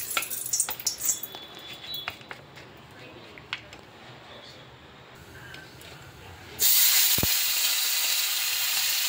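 Four pieces of koi fish hit hot oil, and a bright, loud sizzle bursts in late and runs on after a stretch of faint clinks and kitchen clatter.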